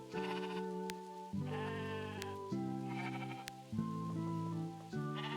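Sheep in the video game Discounty bleat repeatedly, with several clear, wavering cries following one another closely and loudly, with no talking.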